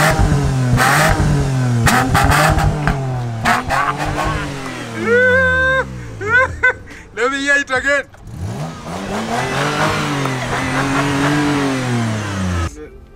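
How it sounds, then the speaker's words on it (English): A 2016 Honda Shuttle engine revs loudly and repeatedly through its exhaust, rising and falling in pitch, while someone talks briefly between the bursts. "a powerful and good engine that is emitted through a very nicely packaged exhaust pipe"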